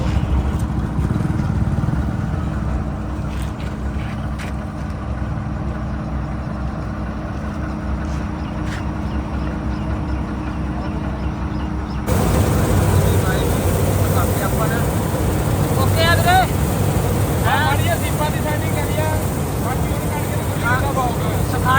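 Farm harvesting machinery starting work in a village wheat field, a steady loud engine drone that grows rougher and louder partway through, with voices talking over it.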